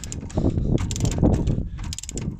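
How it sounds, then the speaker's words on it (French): Torque wrench set to 175 newton-metres tightening the hub nut on the rear drum brake of an Opel Corsa, giving a dense run of close mechanical ratcheting clicks that continue steadily without any talk. "J'ai réglé à 175 newtons ma clé dynamométrique."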